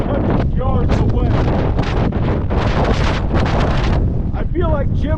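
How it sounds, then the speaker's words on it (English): Strong gusting wind in a Kansas dust storm roars and buffets the microphone in a loud, continuous rush, with a voice briefly audible under the noise. "let y'all see the wind blowing me around"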